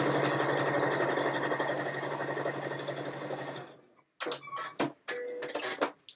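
A domestic sewing machine stitches fabric, its motor whirring steadily and close for several seconds before stopping, followed by a few scattered clicks and small handling knocks.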